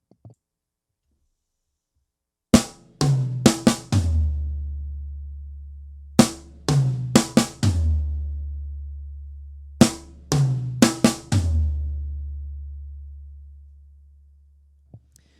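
Beginner drum fills played three times on a full drum kit, moving around the toms down to the floor tom, each fill a quick burst of several close, loud hits with ringing low tom decay, separated by silence.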